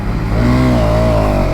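A Hero Xtreme 250R motorcycle accelerates hard from a standstill in a zero-to-60 run, its engine note climbing loud and close with a steady rising whine.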